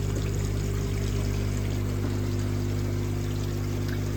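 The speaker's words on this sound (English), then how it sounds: "returns via this one and the first pipe there that you can see flowing back in now" Water from a pond filter pours steadily back into the pond through a return pipe. The flow is loud and close with a constant rushing splash and a low pump hum underneath.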